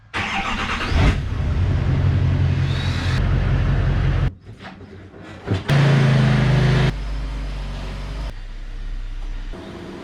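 A 2015 Jeep Grand Cherokee WK2 engine runs loudly and close inside a garage as the wheels roll up onto boards, with revving surges, brief drops in engine level and a couple of clunks.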